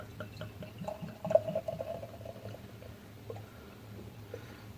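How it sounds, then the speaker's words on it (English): Bad Brewing's bourbon barrel aged coffee imperial stout pouring into a glass, a close, gurgling liquid stream with soft splashing and a fizzing head, moderately loud and uneven, no talking. "so let's pour it into a glass here"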